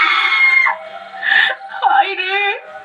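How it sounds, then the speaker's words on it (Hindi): A woman's high, strained scream in a Hindi horror tale about a possessed puppet, loud and close, rising in several wailing bursts over about three seconds, with sobbing, cry-like tones. "वह चीख पड़ती है"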